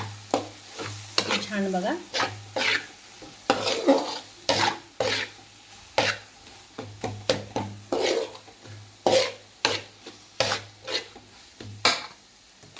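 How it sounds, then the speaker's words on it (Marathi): Pav bhaji is stirred and mixed in a pan with repeated scraping and clanking strokes of a spoon against metal, a steady rhythm over a soft sizzle, with a brief voice speaking briefly. "आता हे सगळं यामध्ये मिक्स करून घेऊया."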